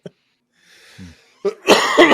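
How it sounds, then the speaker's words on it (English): A man coughs close to the microphone: a brief throat sound, a quiet pause, then a loud, harsh burst of coughing that runs to the end. "Oh, this stupid cough, man."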